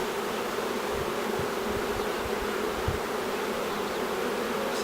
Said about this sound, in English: So now that I've got some very excited bees